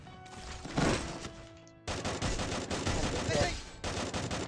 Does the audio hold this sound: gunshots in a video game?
yes